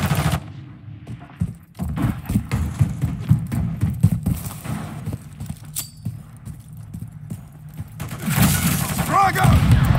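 Rapid automatic gunfire bursts from Call of Duty Modern Warfare III Team Deathmatch on the Terminal map, dense and repeated across the clip with game voice callouts and in-game chatter mixed in, intensifying near the end.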